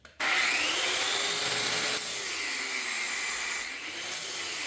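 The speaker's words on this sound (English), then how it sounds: "I'm going to go out of the grinder for a quick minute because it's a little bit faster at like bulk material removal" An angle grinder bites into the steel of a Dana 60 front axle housing, a loud continuous abrasive whine and rasp that dips and rises in pitch as pressure changes, alone without speech.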